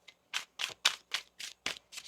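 Tarot cards are shuffled in quick, soft riffling bursts, about eight papery flutters in a steady rhythm, close but quiet.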